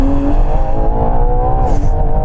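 A 725hp Ferrari Purosangue SUV launches hard, its engine roaring close and loud with a rising pitch as it accelerates, a brief shift-like dip near the end, and a hint of tyre noise.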